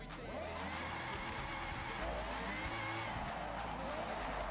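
Lexus LFA engine in Forza Horizon, a loud, steady high-revving car drone that holds throughout with tyre noise, lingering close and continuous with no break.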